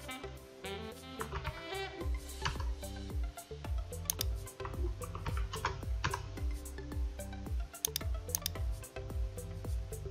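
Fingers type on a computer keyboard in a quick, uneven patter of light clicks that runs steadily and close, without talk.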